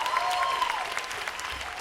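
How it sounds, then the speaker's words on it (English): Applause for guests on stage at a welcome aboard show on the Carnival Liberty cruise ship, a steady wash of audience clapping at moderate loudness with a brief whistle or cheer early on. "How about a huge round of applause for your fellow guest?"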